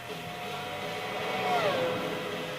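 Lister Storm V12 race car in Gran Turismo 4 pulling away, a steady mid-loud engine drone with a rising-then-falling pitch sweep near the end as it zooms off.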